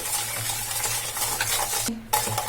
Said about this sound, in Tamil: இது எல்லாத்தையும் நல்லா மிக்ஸ் பண்ணிடலாம்